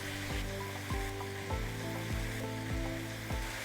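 Tofu with carrots and broccoli frying in a pan, with a steady close sizzle and a spatula scraping and stirring in a regular rhythm of strokes about every half second.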